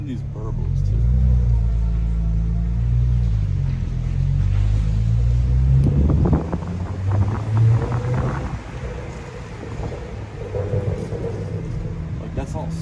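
Stock exhaust on a BMW E93 335i with the N54 engine rumbles at a deep idle, then breaks into uneven popping burbles and crackles on the overrun, loud and close.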